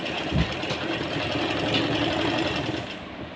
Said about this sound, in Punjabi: ਇਸ ਤਰ੍ਹਾਂ ਆਪਾਂ ਨੇ ਸਲਾਈ ਲਗਾਉਣੀ ਹੈਗੀ ਆ